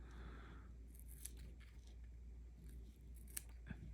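Scissors snip through double-sided foam tape for a cake topper craft, giving a few faint, soft cuts close by against a quiet room hum.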